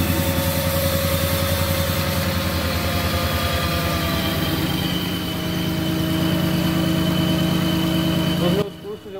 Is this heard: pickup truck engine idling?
yes